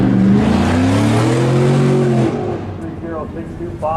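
A hot rod race car runs an autocross course at a Goodguys Nationals event in Columbus, Ohio, its engine droning loud and steady with rising harmonic pitch before easing off, while a commentator talks over it.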